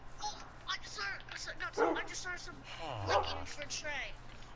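Dogs in the video game Minecraft barking in short, repeated yips at close range, mixed in with a person talking over them.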